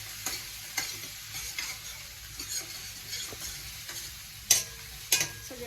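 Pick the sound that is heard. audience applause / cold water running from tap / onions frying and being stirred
onions frying and being stirred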